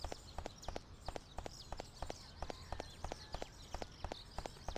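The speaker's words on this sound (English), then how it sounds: "you can hear footsteps" Footsteps in the 2001 video game Shadows of Destiny tap in a steady, even walking rhythm, faint and crisp, like hard heels on a firm surface, with no talk.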